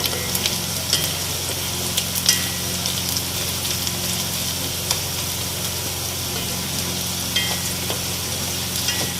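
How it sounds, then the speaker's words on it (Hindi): Green chilies and other ingredients sizzle and fry in a pan, giving a steady crackling hiss with occasional stirring scrapes and a low background hum. "इन सब चीज़ों को मैं 2 से 3 मिनट तक फ्राई करूँगी।"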